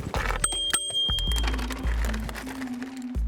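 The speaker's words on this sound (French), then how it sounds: "nous troquons notre traditionnelle camionnette pour un vélo" Bicycle bell ringing with a couple of bright dings over outdoor street noise and a passing vehicle, on a bicycle ride through the province.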